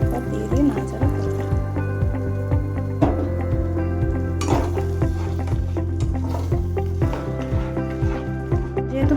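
Paneer dish being stirred in a pan with milk and water, a steady wet scraping and bubbling with soft sizzle running throughout, fairly close and continuous, no talk.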